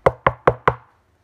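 Four sharp, evenly spaced knocks on a door, close and loud, with a short decay after the last and no talking.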